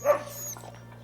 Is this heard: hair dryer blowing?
no